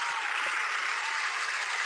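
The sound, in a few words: audience applause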